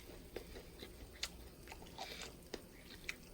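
Trader Joe's vegetable bird's nest, a crisp fried vegetable cake, being bitten and chewed without sauce, giving a run of faint, sharp crunches spaced irregularly and heard up close against a quiet room.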